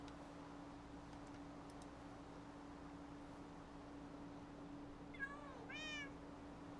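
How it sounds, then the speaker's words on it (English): Cats in a survival video game let out two short meows near the end, faint but clear over a quiet, steady hum with occasional light ticks. "Ah, kitties."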